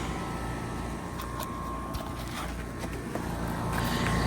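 A Trane XR14 heat pump with an Alliance compressor starting up in heat mode, giving a steady, fairly loud broadband whir and hum that builds slightly toward the end, with no talking.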